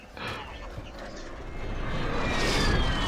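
A drone flies overhead in Call of Duty Warzone, a rising whirring engine drone that grows louder over a few seconds amid game noise, with players talking.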